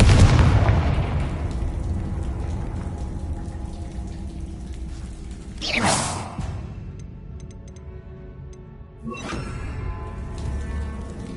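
Bombarda and Confringo spell explosions in Hogwarts Legacy: a heavy blast at the start fading into a long rumbling decay, then two more sharp explosive bursts several seconds apart, each trailing off with crackling debris.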